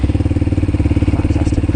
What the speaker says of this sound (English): So clutch is in, press the starter button.